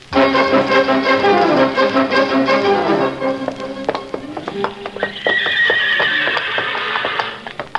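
A loud horse whinny rises and falls, followed by a quick series of clip-clopping hoof taps and a second, higher neigh, a sound effect in an old-time radio comedy.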